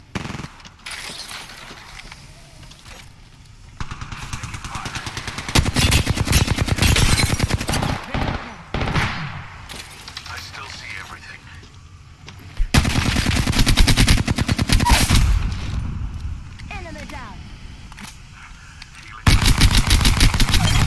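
Sustained machine gun fire in a video game, loud long bursts of rapid shots alternating with quieter stretches and then resuming, with dense overlapping reports throughout.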